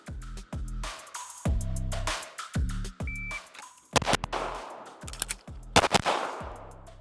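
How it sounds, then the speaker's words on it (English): Pistol shots from a SIG P320 Spectre Comp, fired in pairs with a pause at slide lock for a magazine change: sharp, loud cracks in close clusters separated by brief handling noise. "So 2 shots, slide lock, mag change, 2 shots."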